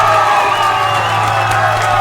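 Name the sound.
crowd applause and cheering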